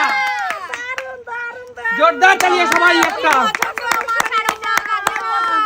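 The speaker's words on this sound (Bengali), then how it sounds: "সবাই একটা জোরদার তালিয়া" A small group claps for a sari given as a Bhai Phonta gift, quick scattered hand claps rising in the second half beneath loud, lively talking voices.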